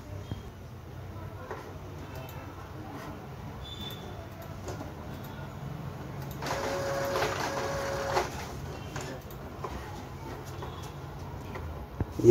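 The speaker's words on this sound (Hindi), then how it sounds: "ये हेड प्रिंट कर रहा है पेपर के ऊपर" An Epson L3110 inkjet printer under repair pulls in paper and prints, a soft mechanical whir and clatter that swells for a couple of seconds over a low room hum.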